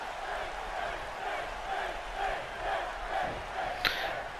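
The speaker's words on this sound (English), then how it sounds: "Crowd there chanting for Finn Balor to get to his feet" A wrestling event crowd chants rhythmically in repeated pulses, urging a downed wrestler to get back to his feet, heard at a moderate distance, with a sharp bang near the end.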